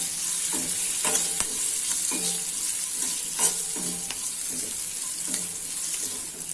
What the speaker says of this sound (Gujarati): હવે મરચાં સુધારેલા છે તે નાખી દઈશું અને તેને આપણે તેલ ને ને કોટિંગ થઈ જાય એટલા માટે આ રીતના હલાવતા રહેશું